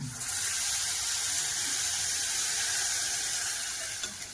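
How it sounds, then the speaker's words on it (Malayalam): Steady, loud hiss of water hitting a hot pan of frying curry with green chillies, a bright continuous sizzle that fades slightly toward the end, with no talking. "ഇച്ചിരി വെള്ളം കൂടെ ഒഴിക്കണം"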